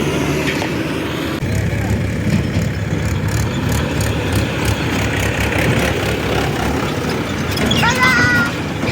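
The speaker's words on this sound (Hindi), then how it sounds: "महिंद्रा 475 है। ये लोडिंग के लिए आ रहा है अभी।" Mahindra 475 tractor engine idling steadily and close while it pulls up for loading mud from a JCB 3DX backhoe, with a low continuous rumble throughout and brief voices and a faint whistle-like sound near the end.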